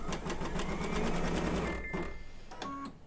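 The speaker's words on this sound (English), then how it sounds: "Let me just do it again here, just so we can watch the stitches." An embroidery sewing machine stitches an in-the-hoop St. Patrick's Day lucky horseshoe mug rug, a fast steady needle clatter filling the first two seconds up close before stopping, followed by a few faint mechanical clicks and a short beep.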